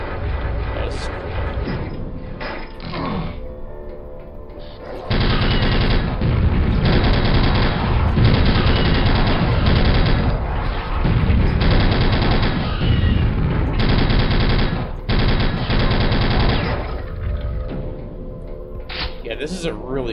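Sustained bursts of rapid automatic gunfire from a 1940s-style submachine gun resembling a PPSh in a Battlefield-style shooter, loud and dense in long stretches with brief gaps, under game sounds and speech.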